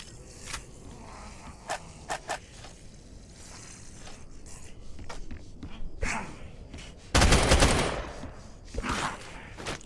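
An RPK machine gun fires in Apocalypse Rising 2, one short loud burst in the middle after a stretch of scattered clicks and faint shots.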